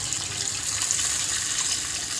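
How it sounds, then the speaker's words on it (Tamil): Tamarind water poured into a pan of sautéed fish curry masala in a clay pot, a steady loud continuous liquid gush without pauses. "இந்த புளி தண்ணியை வந்து நம்ம ஊற்ற வேண்டியதுதான்"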